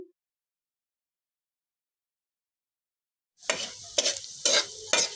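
Pointed gourd peels frying in a pan for a mashed bhorta: silence at first, then a steady close sizzle with repeated louder bursts of stirring scrapes near the end.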